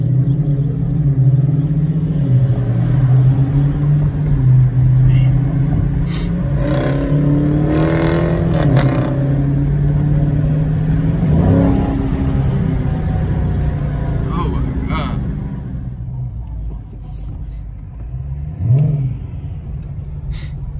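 Supercharged Range Rover engine revving loudly and close with a steady deep rumble and rising surges, while several people talk excitedly over it.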